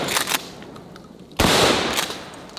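A shotgun fired from the hip outdoors, one loud blast partway through that rings out and decays, after a quieter stretch with a few faint clicks; no one speaks.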